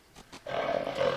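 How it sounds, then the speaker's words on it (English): A wolf in the video game Rust growls low and rough after two brief huffs, the snarl swelling and holding near and fairly loud. "Now he's kind of growling."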